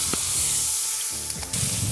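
Fried rice ingredients sizzle in hot duck fat in a pan, a steady close hiss with a few soft spatters and no talking.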